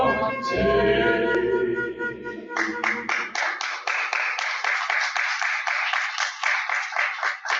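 An audience applauds at a Black History Month celebration in Cottage City / Colmar Manor after a song. A ringing musical tone trails off at first, then steady rhythmic clapping continues on its own.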